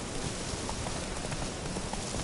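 Roach, the horse in The Witcher 3: Wild Hunt on PS4, moves along with a steady clip-clop of hooves. The footfalls are blended into a constant hiss that sounds like rain.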